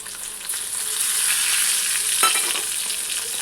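Cucumber pieces frying with groundnuts in a pan, giving a continuous bright hiss of hot oil with faint stirring scrapes, close and steady, with no voices.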